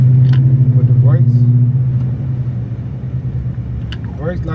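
A Dodge Magnum idling with a deep steady engine drone that eases off partway through, heard close under someone talking.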